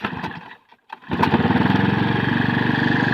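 A Makita EB5300TH backpack blower engine is pulled over with its starter, coughing briefly, then catching at about one second and settling into a loud, steady two-stroke running drone.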